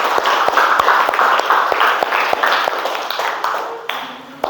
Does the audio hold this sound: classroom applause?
yes